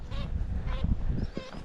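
A duck calls harshly while feigning injury near its ducklings by a waterside: three loud, close, honking cries spaced across a couple of seconds over low wind rumble.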